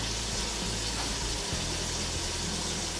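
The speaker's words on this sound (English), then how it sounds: "giant pot of hot water is boiling" A giant pot of water at a rolling boil on a home stove, steady dense bubbling and hiss that stays constant and close with no pauses and no talking.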